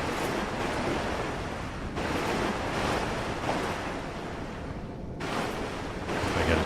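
Deep water in the video game Dark Souls 3 gives off a continuous rolling wash of surf and waves, loud and broad, swelling and easing in gentle surges with a short dip partway through; nobody speaks.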